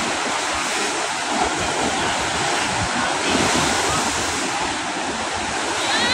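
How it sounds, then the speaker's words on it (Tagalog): Strong sea waves in Manila Bay roll and wash continuously, a loud, dense roar of surf with wind buffeting the microphone throughout. "Grabing alon"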